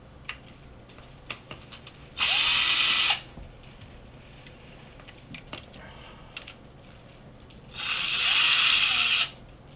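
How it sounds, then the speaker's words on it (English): A power drill runs in two loud bursts of a few seconds each, spinning out the five bolts holding a tire during tire mounting, with quiet clicks and handling noise in between. "You can disassemble with the drill, right?"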